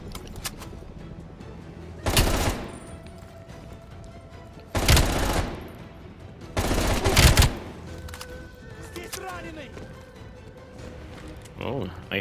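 An MG82 light machine gun fires in the Black Ops Cold War video game as three loud, separate bursts of automatic fire, with quieter stretches of talk between them.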